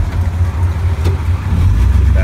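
A Willys 6x6 with a 1930s flathead Ford V8 engine runs with a steady low rumble close by, with a voice over it.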